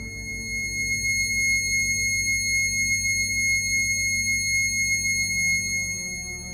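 A steady synthesized pure tone pitched at a high C sharp, standing for the cube's number 2160, holds evenly for several seconds with no voices.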